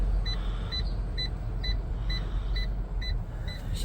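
A Fiat 500's parking sensor beeps in reverse with a steady string of evenly spaced short electronic tones, about eight in a row, over a faint low engine hum.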